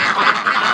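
A Muscovy duck quacks repeatedly in a steady run of nasal calls, close and fairly loud, in a winter farmyard.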